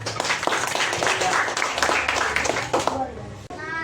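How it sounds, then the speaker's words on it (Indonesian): Children clap and cheer in an elementary school classroom, a dense burst of applause lasting about three seconds before fading, with voices mixed in and talk afterward. "Tepuk tangan dulu."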